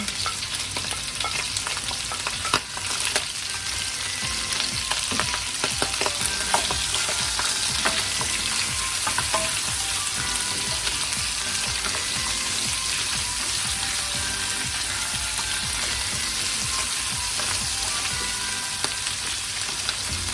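Lemongrass, peppercorns and leaves fry in a pan with a steady, close sizzle and occasional stirring scrapes, continuous throughout.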